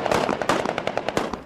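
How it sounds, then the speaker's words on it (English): A rapid burst of automatic gunfire from Osama Bin Laden's armed men, fired at 1 a.m. in the Afghan mountains as a welcoming show, with sharp cracking shots in quick succession, loud and close, no talking. "there was a little show of gunfire by his men to greet him"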